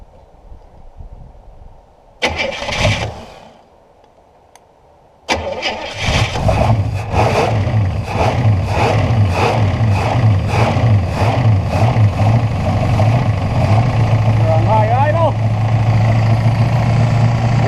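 An abandoned 1968 Buick Skylark, sitting for 40 years and primed before starting, cranks briefly, pauses, then fires and settles into a loud, steady idle with a rhythmic pulsing beat, close up.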